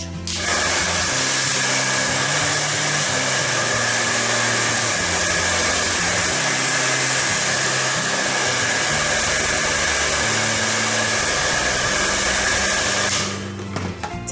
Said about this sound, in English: Using the blow dryer.